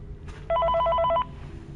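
Phone call ringing in the video game Five Nights at Freddy's Ultimate Custom Night: a single short electronic trilling ring burst, loud and clear, alone over quiet background.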